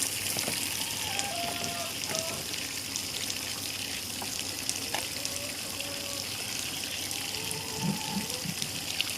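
Water from a rain barrel's debris filter pours out in a steady, close gush and splash that runs throughout, with a few faint thuds and small knocks mixed in.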